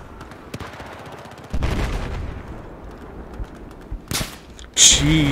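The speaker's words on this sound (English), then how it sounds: "that was a sniper shot close to me" Gunshots ring out in a Battlefield match, a sniper round cracking close by: a few sharp, separated reports with a heavier burst near the middle and loud shots toward the end, over quieter background noise.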